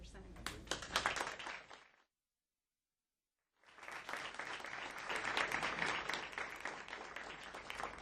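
Audience at a Beacon City School District board of education meeting breaks into applause and cheers, a dense burst of clapping that cuts to silence for about a second and a half, then resumes louder and sustained.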